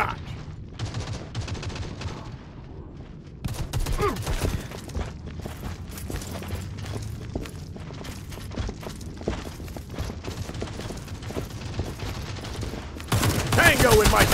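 Rapid bursts of gunfire in the Modern Strike video game on the Havana deathmatch map, dense overlapping shots and clatter running throughout, loud and close with a heavier burst at the end.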